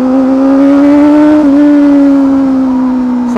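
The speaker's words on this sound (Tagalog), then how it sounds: "Try natin sa first gear. Ayan, subukan natin yung acceleration." An inline-four 500cc sportbike revs hard in first gear, a loud, steady engine drone close by that climbs smoothly with a brief dip partway through, with no talk over it.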